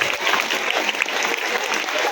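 Dense, steady clapping from an audience fills a school Teacher's Day celebration hall in Cuddalore, continuous and close with no break.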